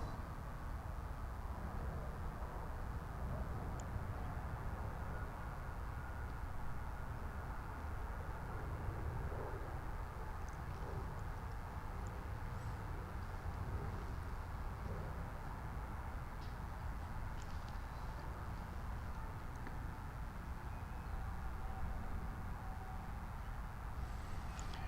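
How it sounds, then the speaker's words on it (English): Emirates Boeing 777 arriving from Dubai at DFW International Airport, a faint, distant, continuous broadband jet roar that holds steady throughout at a low level, with no talk. "And again, that's Emirates Flight 55U, a 777."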